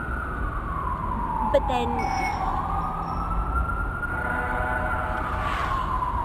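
An emergency vehicle siren wails past on a street with passing cyclists, its rising and falling tone sweeping clearly over steady traffic noise while people talk at the same time.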